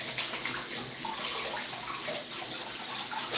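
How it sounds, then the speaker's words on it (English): Water runs steadily from a tap while hands are washed, a continuous broadband splashing rush that stays fairly even and alone for a few seconds. "I'm just gonna wash my hands."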